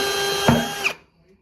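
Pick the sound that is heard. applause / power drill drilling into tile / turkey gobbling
power drill drilling into tile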